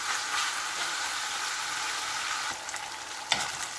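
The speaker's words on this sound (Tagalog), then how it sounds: "At dito ay naluluto ng ating pork." Ground pork sizzles and crackles steadily in a pan for an eggplant dish, with a few scraping stirs near the end and no talking.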